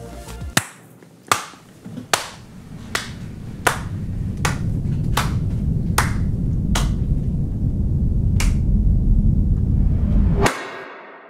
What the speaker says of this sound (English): You know I'm a big fan of the slow clap,